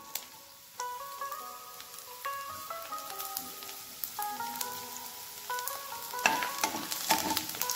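Garlic and cumin sizzle in hot oil in a pan for okra (bhendi) bhaji, a steady frying hiss under melodic background music that grows denser and louder toward the end.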